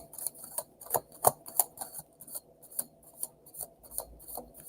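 Tarot cards being shuffled again after one was dropped, a quick riffle of crisp papery flicks and soft rasps in irregular bursts, fairly close and moderately quiet, with no talking.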